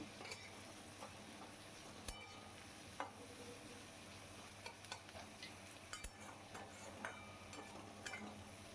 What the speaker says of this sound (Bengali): ভালো করে নাড়াচাড়া করে নেবো গোল্ডেন ব্রাউন করে ভেজে নেবো